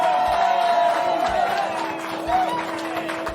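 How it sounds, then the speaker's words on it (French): A crowd cheering and shouting at an outdoor concert, a steady wash of voices with sustained tones running through it, continuous and fairly close. "Et la foule s'enjailla."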